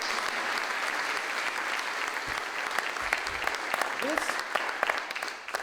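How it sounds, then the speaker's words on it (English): A room of guests at a CUNY event in Mexico gives a round of applause, with sustained, even clapping. Louder sharp claps and a few voices come in toward the end. "Eliario does deserve a round of applause"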